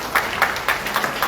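Brief applause from guests at a wedding ceremony, a few clustered claps with rhythmic peaks standing out over steady room noise.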